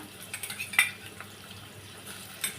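Tomato and raw mango tipped into a pan of reddened fried onions, giving a few soft stirring scrapes and light utensil clinks over a faint sizzle, quiet and close with no talk.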